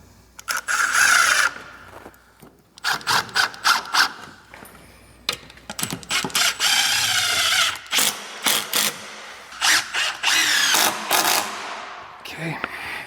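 Screws are driven with a power drill through tongue-and-groove boards into wood blocking, giving repeated short whirring bursts with pauses between, loud and close, and some talking between the bursts.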